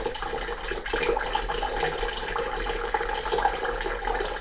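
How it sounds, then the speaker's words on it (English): Tap water running into a bucket, a steady close splash and gurgle that continues evenly throughout, without any voices. "The water is going into a bucket."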